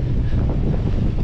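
Strong wind buffets the microphone at a Turkish seaside beside the ancient ruins of Knidos, a loud, steady roar with no voices.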